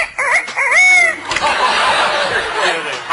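A person's voice imitates a rooster crowing, a rising and falling cock-a-doodle-doo call delivered close and loud, followed by breathy noisy vocal sounds.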